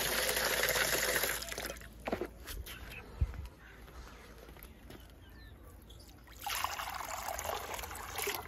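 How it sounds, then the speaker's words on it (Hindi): Water pours into a drinking container for chicks in a Pakistani village, a splashing trickle that starts loud, fades to quiet rustling and footsteps, then returns near the end. "पानी इहदे विच पा दिंदे ताकि पींदे रहे"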